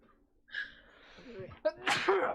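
A single loud sneeze bursts out near the end, preceded by a voice drawing in breath and building up to it.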